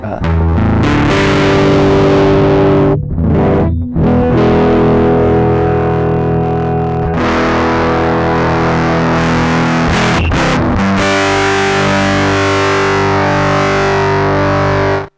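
A hex fuzz analog guitar synth tone from a Roland GR-100 or Spicetone 6Appeal, thick distorted sustained chords ringing loud and close, with a couple of brief gaps between strums and no talking.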